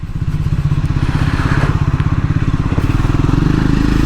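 A Triumph Scrambler 400x motorcycle rides while lane filtering through traffic, its engine a loud, close, steady low thumping putter with slight wind rush throughout.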